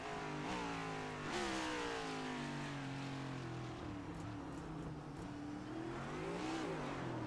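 A race car engine revs hard as the driver accelerates on a road course, a loud continuous rising and falling roar with pitch sweeping up through gear changes.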